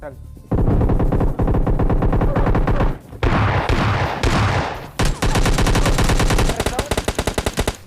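S12K shotgun gunfire in PUBG Lite, loud and close, with dense bursts of rapid repeated shots almost throughout, a brief pause midway, then a final run of fast, evenly spaced blasts.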